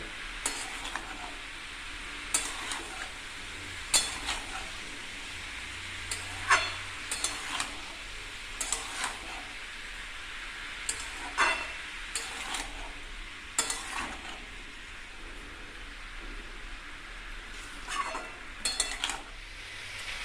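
Shukto vegetables cook quietly in a pan as a spatula stirs them in irregular bursts, with sharp scraping clicks of utensil against metal over a faint, low sizzle.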